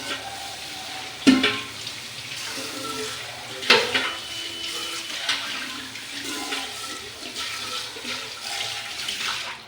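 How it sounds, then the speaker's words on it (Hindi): Dishes being washed by hand with water scooped from a bucket at home, with splashing, clinking and running-water sounds throughout and two sharp clatters of utensils near the start. "ये बाल्टी में ले लेके धो लेती हूँ ना बर्तन"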